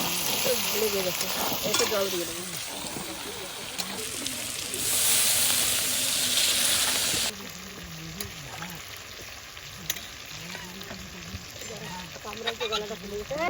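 Mutton sizzles steadily in a pot over a low flame, a constant hiss with stirring scrapes, while a person talks over it throughout.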